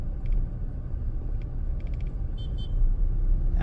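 A learner's car engine rumbles steadily and low as the clutch is released during a driving lesson, with a few faint high clicks and ticks above the drone.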